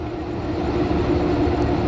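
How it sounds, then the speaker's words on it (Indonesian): A C6 service locomotive moves at the Balai Yasa SGU rail depot, producing a steady, loud rumbling drone with a low engine hum that stays constant through the short stretch. "ini kita lihat lokomotif dinasnya. Kebetulan pakai Puong atau C6"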